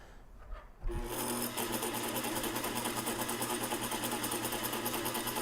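After a brief quiet moment with a small handling noise, a sewing machine starts and runs steadily, stitching fabric for a head mask pattern with a close, even, rapid mechanical rattle.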